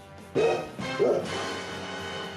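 A man imitates a dog bark with two gruff, loud woofs about half a second apart, close to the microphone, then a short trailing tail of voice.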